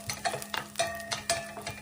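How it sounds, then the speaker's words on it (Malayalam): About a dozen cashews roasting in ghee sizzle as a spoon stirs them, giving a rhythmic series of scraping swishes, close and fairly loud, with the frying hiss running underneath. "നന്നായിട്ടൊന്ന് മൂത്ത് വരുന്നവരെ ഒന്ന് നന്നായിട്ട് ഇളക്കി കൊടുക്കാം"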